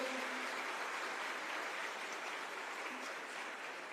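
A crowd claps continuously at a Marathi motivational gathering, the women's section answering a call for loud applause; a broad, even wash of clapping that holds steady from start to finish.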